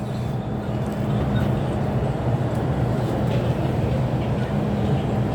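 A Hong Kong train arriving at a station, a loud continuous low rumble and rolling hum filling the whole stretch, steady and close, as if heard from inside a carriage.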